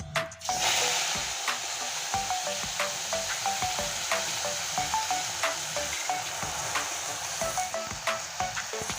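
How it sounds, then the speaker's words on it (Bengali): Sour greens frying in hot oil in a wok, a steady close sizzle with repeated soft stirring scrapes and clicks after an initial burst as the greens hit the oil. "এই টক শাকটা এখন দিয়ে দিব ফরনের উপরে"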